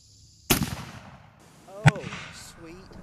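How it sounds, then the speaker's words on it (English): An 8 gauge shotgun fires buckshot at a cantaloupe, one sharp loud blast at close range followed by a second sharp report and a short voice reaction. "You got the 8 gauge with some buckshot against the cantaloupe."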